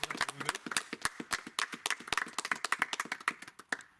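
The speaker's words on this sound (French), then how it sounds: "Oui, déjà, applaudissements pour vous deux." A small audience claps for two contestants, a sparse, uneven patter of individual hand claps heard at a distance and fairly quiet, with no voices over it.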